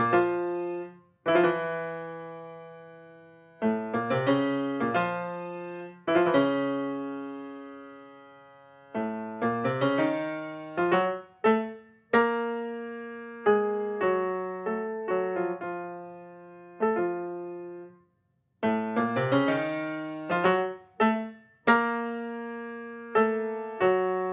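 A solo piano piece by Samuel Goldenberg played alone, with separated phrases of repeated notes and chords, brief pauses between, at a moderate volume.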